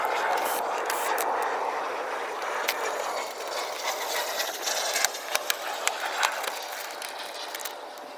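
A power tool whirs steadily while screws come out of the inner fender liner of a Honda Pilot, a close, continuous buzzing drone with a few sharp clicks near the end.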